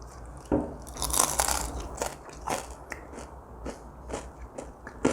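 Crisp, crackly bites into an ultra-thin Pizza Hut Mega Crunch pizza crust, a series of sharp close crunches with chewing between them and no talking.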